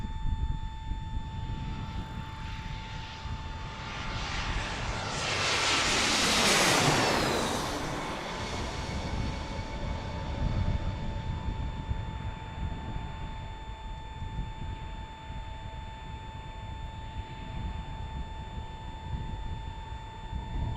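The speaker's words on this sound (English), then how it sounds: "Mike says that's an American A319 from Key West." An American Airlines Airbus A319 from Key West passes overhead near Washington's DCA airport, its jet roar swelling over several seconds to a loud peak and then fading into a steady rumble with wind noise.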